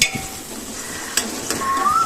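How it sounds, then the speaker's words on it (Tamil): Small onions sautéing in hot oil in a pan, cooked until golden for a mutton head curry: a steady low hiss with a few sharp clinks and scrapes of a stirring spoon against the pan, close and moderately loud. "இப்போ இந்த வெங்காயம் கொஞ்சம் பொன்னிறமாக வருத வர வதக்கி எடுத்துக்குவோம்"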